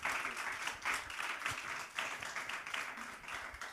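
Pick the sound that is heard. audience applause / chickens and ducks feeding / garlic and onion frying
audience applause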